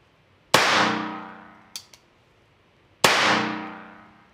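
Two sharp gunshots from a Bond Arms Stinger or Rawhide .22 LR derringer-style pistol, about two and a half seconds apart, each with a loud crack and a ringing decay, plus a faint metallic click between them, no talking.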